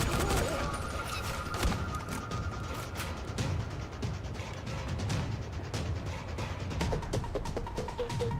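Shotgun blasts in the zombie survival video game Dying Light: repeated sharp shots over a steady, busy background of game noise at moderate level, with no talking.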